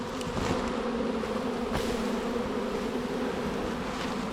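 Steady buzzing drone of a honeybee swarm fanning at the entrance of a hive box after being shaken from a tree, a dense continuous hum that holds even and close throughout with no talking.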